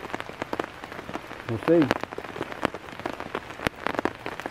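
Rain patters steadily on a camp tarp at a wet wilderness campsite, a dense field of small close drops, while a voice speaks briefly near the middle.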